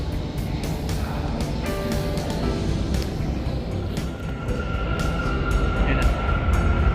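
A subway train on the New York underground rumbles steadily through a station, with a continuous loud roar, metallic squeals and a rising whine toward the end as it approaches.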